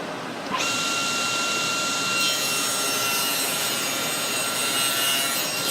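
A saw cutting a thin strip of walnut on a hardwood small parts jig, a steady close, loud, rasping cut that starts abruptly and runs without pause.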